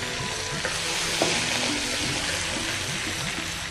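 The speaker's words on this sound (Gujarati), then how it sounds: "1/2 ચમચી લીલા મરચાં નાખીશું." Half a spoon of green chilli paste hits a cumin tempering in hot oil for panchmela khichdi, giving a steady, close, loud sizzle with faint stirring throughout.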